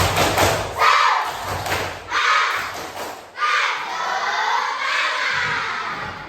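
Elementary schoolchildren in a classroom perform a clapping chant in loud rhythmic bursts: sharp group claps punctuated by shouted chant phrases, with short pauses between each burst.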